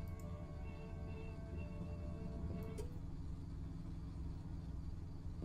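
A car rumbles low and steady nearby in the horror game Fears to Fathom, a continuous engine drone lasting several seconds with no voices over it.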